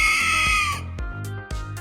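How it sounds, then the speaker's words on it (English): Opila Bird in Garten of Banban lets out a long, loud, shrill screech, then a few shorter, sharper squawk bursts with thuds beneath them. "Unlike some of the other mascots, she seems incapable of speech, communicating only in screeches."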